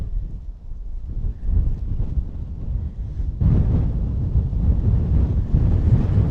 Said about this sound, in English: like the weather report said, the wind is gonna get worse.